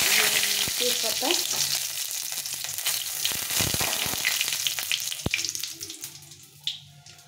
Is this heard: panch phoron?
yes